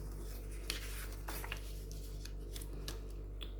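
Crisp scissor snips cutting out tall vintage-style junk journal cards, a series of sharp close clicks spaced irregularly over a low steady hum.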